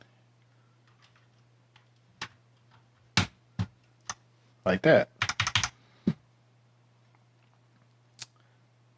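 Keycaps pressed down onto a computer keyboard, a sparse run of sharp plastic clicks and snaps, with a dense cluster of rapid clicks in the middle. The sounds are close and fairly loud, and a person speaks briefly between them.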